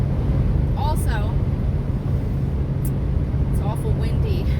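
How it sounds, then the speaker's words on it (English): Strong wind buffets a car driving on I-80 through open farmland in Ohio, a steady broadband roar with low rumble throughout, while a voice talks briefly over it. "it's awful windy on the I-80 now that it's all farmland"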